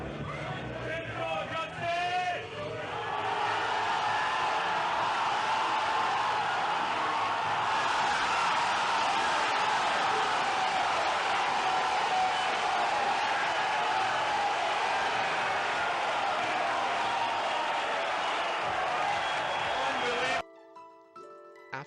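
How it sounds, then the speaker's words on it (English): A tournament crowd roars as Daigo Umihara parries Justin Wong at Street Fighter, a dense, sustained wall of cheering that lasts for many seconds before cutting off abruptly, with a voice talking at the start. "the crowd stood up, cheering in awe of Daigo's play"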